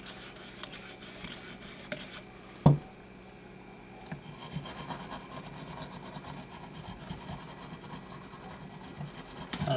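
A Smith & Wesson 642 revolver is rubbed during cleaning, giving faint, steady rasping friction with one brief sharp knock partway through and no talk.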